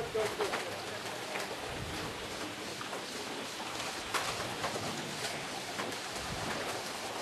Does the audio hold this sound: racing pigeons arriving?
yes